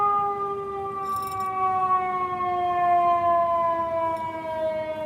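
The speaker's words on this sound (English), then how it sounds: "That's my announcing siren." A wailing siren sound effect announces the start of a live show, its steady rising and falling tone loud and clear with no voices.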